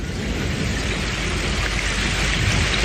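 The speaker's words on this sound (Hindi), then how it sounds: "अरे बारिश शुरू हो गई।" Rain just beginning in a video game, a steady close hiss of falling drops on surfaces with faint low rumble, unbroken for the few seconds.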